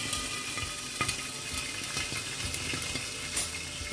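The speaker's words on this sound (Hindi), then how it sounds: "राई डालने के बाद में कड़ी पत्ता और हरी मिर्ची हम डाल देंगे" Curry leaves and green chillies sizzle and crackle in hot oil with mustard seeds, a steady frying hiss broken by sharp pops, fairly quiet and close, with no talking.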